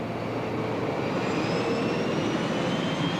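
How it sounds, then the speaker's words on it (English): A jet aircraft gives a steady, loud broadband roar with a faint high whine that slowly rises in pitch. It sounds fairly close and continuous, and no one speaks over it. "it sounds like a jet"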